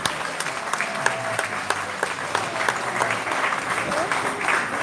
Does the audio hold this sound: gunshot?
no